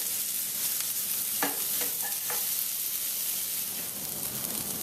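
Onion, garlic and Scotch bonnet pepper sizzle steadily in hot oil over low heat, with a few brief spoon scrapes and stirs in the middle; close and continuous, with no talking.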